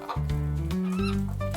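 A hen clucking in a short burst of a couple of rapid calls, close and fairly loud, set over continuous background music with no talk.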